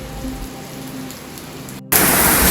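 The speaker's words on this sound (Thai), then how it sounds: "ฝนตก ผมไม่ได้เอาเสื้อกันฝนที่มาด้วยอยู่ในรถ" Heavy rain falls outside a cave in Phatthalung, Thailand. After a quiet hum, a dense, loud hiss starts abruptly and continues without pause.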